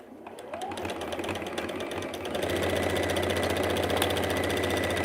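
A sewing machine runs steadily, stitching the lining of a patchwork Christmas zipper pouch. Its rapid mechanical whir is close and even, and it speeds up slightly partway through.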